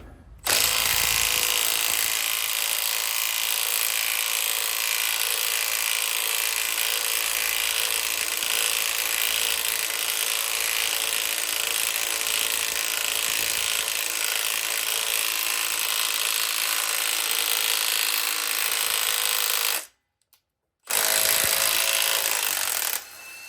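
Puller tool grinding and scraping as it draws the rear upper axle housing bushing out of a 1979-2004 Ford Mustang, a loud, steady rasping that runs almost continuously, broken by one brief pause near the end.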